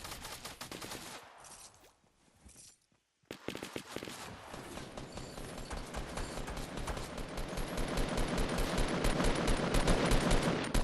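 Rapid gunfire bursts in a video game, dense machine-gun-like rattling that drops out briefly, then returns and builds steadily louder toward the end, with no talk over it.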